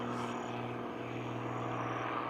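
An aerobatic propeller airplane hangs on its prop in a steady, loud engine drone that holds through the clip with no gaps.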